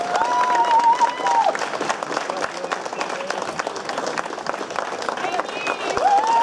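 Applause and some cheering from a crowd at a women's cycling time-trial prize ceremony in France, steady clapping running throughout while a voice speaks over it.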